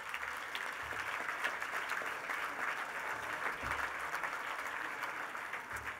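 Sustained applause from an audience at an awards gala, a steady even wash of clapping that holds for several seconds without any talk.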